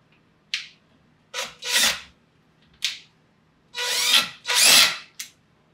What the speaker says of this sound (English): We've got the screws still in place, and I'm going to screw that.